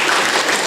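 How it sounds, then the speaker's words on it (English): Dense, steady applause from an audience at a live mini meditation summit in Virginia, loud and continuous with no voices on top. "Big clap for the entire event."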